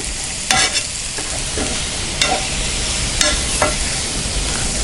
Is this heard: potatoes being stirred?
yes